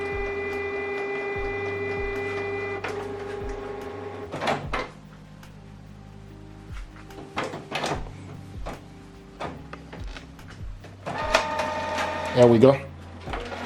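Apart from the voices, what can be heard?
Canon Pixma printer printing a document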